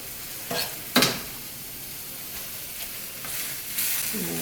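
Ground taco meat with taco seasoning sizzles in a pan with a steady, gentle hiss. A spoon scrapes and stirs it a couple of times near the start, and the stirring comes back faintly later.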